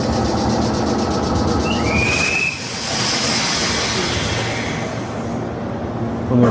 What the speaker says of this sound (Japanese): 電車が来たわけですが、いわゆるこの加門岡崎のね、ラッピング電車ですね。